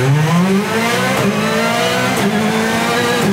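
Rally car launching from a standstill in first gear at full throttle, engine revving hard with rising harmonic pitch, gear changes at intervals, loud and close onboard.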